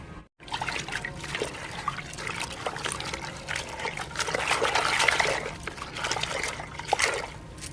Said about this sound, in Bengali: হাফ বালতি মতো জল দিয়ে দুবার ধরে এইভাবে ধুয়ে নিই শাকটা